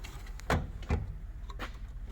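A metal tool drawer on a service truck slides open with two quick rattling knocks, close and brief.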